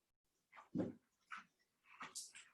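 A dog gives several short whimpering, barking vocal bursts indoors during a yoga session, close and fairly loud, spaced across a couple of seconds with quiet gaps between.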